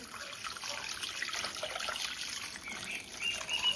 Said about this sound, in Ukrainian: Далі заливаємо теплу воду, не гарячу.